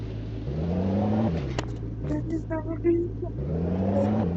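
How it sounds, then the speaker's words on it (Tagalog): A car engine idles and briefly revs as the car is maneuvered into a parking spot, a steady mid-volume hum with short rises in pitch, while people talk faintly in the background. "Ngayon ito ay pinaparking natin yung kotse niya."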